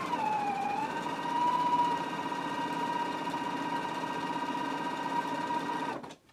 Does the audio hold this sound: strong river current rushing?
no